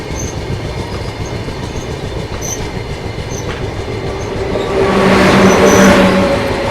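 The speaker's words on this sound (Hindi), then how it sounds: "ट्रेन जो है हमारी सेवाग्राम जंक्शन पहुंच रही है" The Andhra Pradesh Express rolls into Sevagram Junction with a steady rumble of wheels on rails, swelling louder near the end with a squeal of braking wheels and rattling cars.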